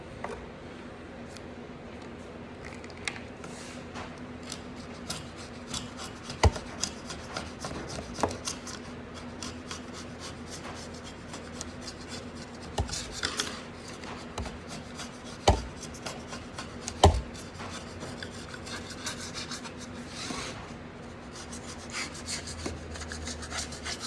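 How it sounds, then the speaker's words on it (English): Hand chisel scraping and paring along a tablesaw-cut groove in a wooden box lid, a run of soft close rasping strokes with occasional sharper clicks and taps. "So I'm going to take a chisel and just clean that up."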